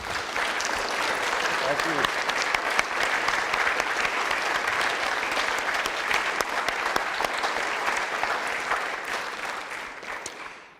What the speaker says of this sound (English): I think we should give him one more applause.